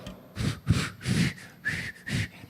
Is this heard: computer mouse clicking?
no